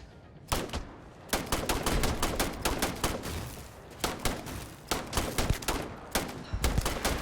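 Semi-automatic weapon fire in Starfield cracks out in rapid bursts of sharp, loud shots, with short pauses between volleys and no talking.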